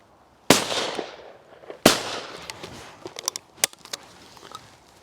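A Browning B725 Black Edition shotgun fires twice at clay targets, two sharp, loud blasts about a second and a half apart, followed by scattered clicks and handling noises.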